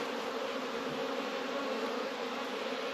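Honey bees buzz steadily at an opened hive during the first hive check of the season, a close, continuous drone with no talk.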